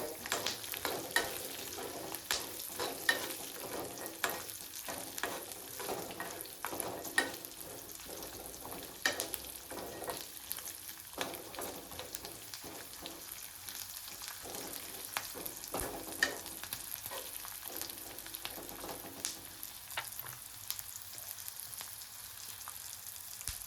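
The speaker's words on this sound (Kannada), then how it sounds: "ಅವು ಎಣ್ಣೆಯಲ್ಲಿ ಕರೆದ್ರೆ ಚಲೋ ಆಗ್ತೈತಿ ಮೆಣಸಿನ್ಕಾಯಿ" Chillies frying in hot oil for churumuri seasoning, a steady close sizzle and crackle with occasional stirring clatter throughout, no voices.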